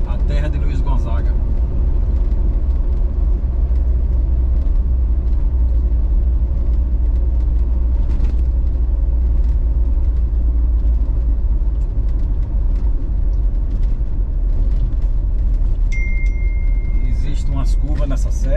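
A 4x4 descends the winding Serra do Araripe mountain road in the Pernambuco sertão, its engine and tires giving a steady, close, low road rumble that continues without a break throughout.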